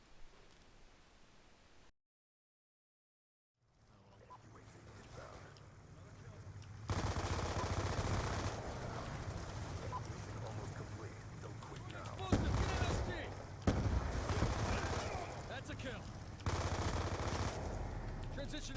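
Rapid automatic gunfire and shots from the video game Call of Duty Black Ops 3 beta play as loud, dense bursts, preceded by a brief silent gap.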